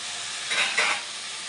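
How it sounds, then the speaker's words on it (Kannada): Noodles tossed into a hot pan for hotel-style stir-fried noodles, giving two short rushes of sizzling and stirring over a steady frying hiss, close and fairly loud with no talking. "ಈಗ ನಾನು ನೂಡಲ್ಸ್ ಹಾಕ್ಕೊತಾ ಇದ್ದೀನಿ"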